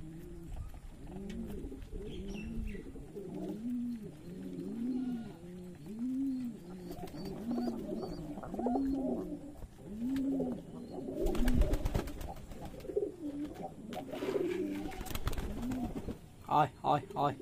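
Racing pigeons in a Bangladeshi loft give repeated soft, throaty cooing in steady rounds, close by, with bursts of wing flutter and handling noise later on.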